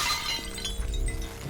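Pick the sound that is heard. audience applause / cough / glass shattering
glass shattering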